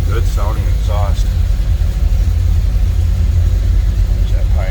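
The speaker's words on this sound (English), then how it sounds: "Good sounding exhaust." A 1981 Chevrolet El Camino with a mild cam idles with a steady, loping low exhaust rumble close by, while someone talks over it in short bursts.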